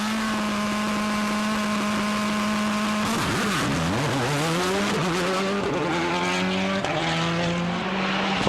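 Sebastien Loeb's WRC rally car at the start of a stage at the 2005 Rally Germany, engine idling steadily before revving hard and climbing through rapid gear changes, loud and close throughout.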